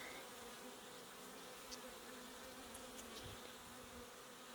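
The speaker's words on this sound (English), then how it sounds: "The bees are getting quite agitated now, but that is to be expected." Honeybees buzzing at an open hive during an inspection, agitated and swarming close by as a steady, dense hum with occasional individual bees zipping past near the microphone, no talking.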